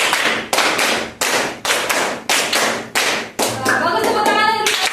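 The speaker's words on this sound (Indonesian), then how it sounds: "Nah, terus tepuk 5 2 kali." Schoolchildren clap out a rhythm game in unison, sharp group claps arriving in short evenly spaced bursts, close and loud, with a teacher's voice giving counts near the end.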